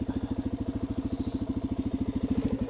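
A motorcycle idles on a trail with a rapid, even putter of closely spaced pulses, steady and fairly close throughout.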